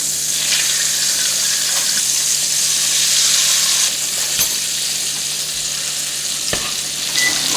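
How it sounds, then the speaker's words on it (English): Turkey wings sear in hot oil and butter with a loud, steady sizzle and crackle, punctuated by a few brief clinks, no voices heard. "Let them sear for about 3 to 4 minutes on each side."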